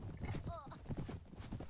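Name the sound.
horse hooves clip-clopping in video game Prophesy of Pendor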